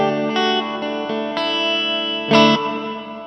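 Electric guitar notes and chords through a BOSS or ZOOM multi-effects hall reverb, ringing out lush and spacious, each strum swelling and tailing off into a long wash.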